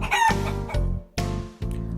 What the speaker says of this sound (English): Soon after, Lord Epicurus went out to the farm behind the house and sat beside the chicken coop.